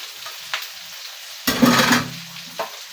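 Garlic and onion being sautéed in a pan, a burst of sizzling that swells when the ingredients go in, with light scraping and stirring clinks before and after; no talking.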